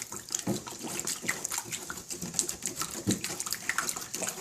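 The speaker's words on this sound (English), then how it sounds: "stir it up with a wooden spoon. Keep stirring that so it's all mixed in." A wooden spoon stirs a wet starch mixture, making continuous squelching, sloshing sounds with irregular soft scrapes and knocks, close and fairly quiet.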